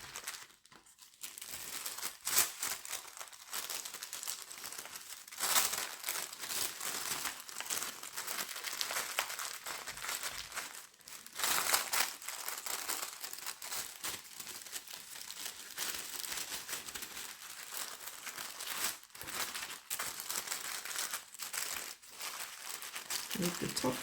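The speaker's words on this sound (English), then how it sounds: "Move the top over, tuck that down into the sides, try and get it neat." Tissue paper is folded over wax melts and tucked into the sides of a gift box, giving soft, close crinkling and rustling in irregular bursts that continue throughout.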